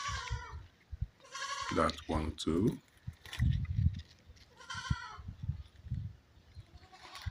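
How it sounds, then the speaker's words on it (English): Goats on a Nigerian farm bleat several times nearby while munching fresh ugu (fluted pumpkin) leaves, with a person talking between and over the calls. "so these goats are enjoying. They're eating ugu."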